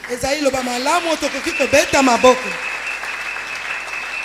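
Applause from a church congregation during a French-language worship service, a warm burst of clapping under a preacher's voice that tapers off and fades after a few seconds.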